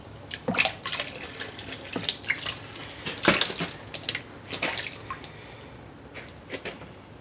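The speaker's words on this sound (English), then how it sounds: "Now we can pan out that pretty easily." Gold concentrate being panned in water makes irregular splashes, drips and sloshes, several sharper swishes spread across the clip, fairly close and with no voices.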